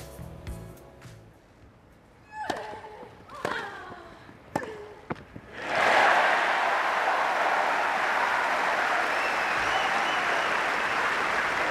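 Tennis crowd bursts into loud, sustained applause and cheering as Garcia serves at 4-5 down to stay in the match. The roar follows a few seconds of a voice talking over quieter crowd sounds, then holds steady and dense to the end.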